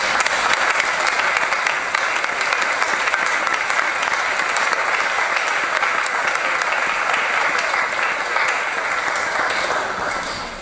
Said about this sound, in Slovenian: Pa en aplavz kot popotnica za naprej.